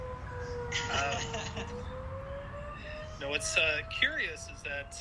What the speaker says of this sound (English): apologize for the sirens